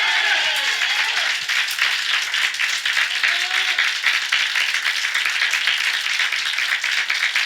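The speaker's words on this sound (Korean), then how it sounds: "믿는 사람 우리 하나님께 박수." A church congregation at a Sunday morning service claps together, brisk steady applause with a few voices briefly audible at the start, continuing evenly throughout.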